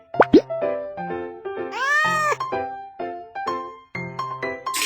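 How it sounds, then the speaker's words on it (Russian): A kitten meows in a cartoon, a drawn-out rising and falling cry in the middle, surrounded by bright plucked musical notes and a couple of sharp plops at the start. "Котенок."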